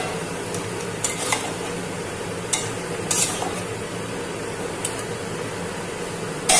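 Chicken meat tipped into a pan of taro and cooked, a soft continuous sizzle with clinks of a spoon or ladle against the metal pan and a few sharper knocks.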